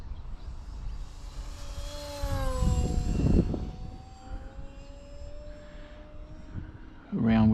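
A Durafly Me-163 V2 950mm RC model plane cruises past at about half throttle, its electric whine swelling and then dropping in pitch as it passes, before fading to a thinner hum in the distance.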